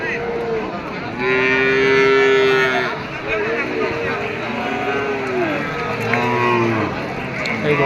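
Cattle low repeatedly at a busy bull market at Sonamukhi cattle haat in Kazipur, Sirajganj, several loud, drawn-out moos from nearby animals overlapping one another over a steady murmur of crowd noise.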